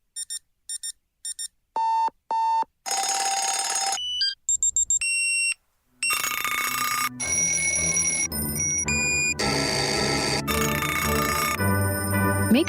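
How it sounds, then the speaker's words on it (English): An alarm clock rings in a radio ad. Short electronic beeps come first, then loud, sustained ringing bursts with brief gaps between them. No voices are heard. "Make sure your child is up with the alarm and ready for school each morning"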